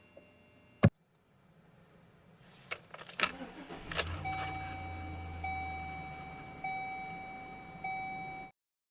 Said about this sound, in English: To reset the oil life of this vehicle, all that is needed is to turn the key without starting the engine and step on the gas pedal 3